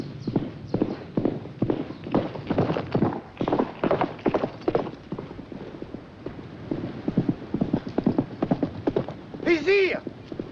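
Horse hooves clip-clopping in a steady trotting rhythm, close and clear, with a short whinny near the end; no one speaks.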